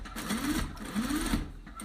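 A sewing machine stitches a short diamond point stitch on a homemade Father's Day gift, its motor humming in two quick rising bursts with a rhythmic needle patter, close and moderately loud.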